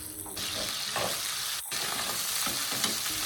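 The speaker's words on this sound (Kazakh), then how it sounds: "Табамызға кішкене май құйып, қызып тұрған майға етімізді салып 5 минуттай 7 минуттай қуырып алатын боламыз" Chopped meat fries in hot oil in a pan while cooking jappasai, giving a steady, close sizzle with brief stirring scrapes, and no talking.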